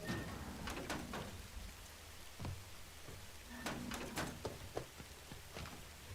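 Steady rain patters on surfaces in a video game, a dense even hiss broken by occasional sharper drops and clicks, with no one speaking.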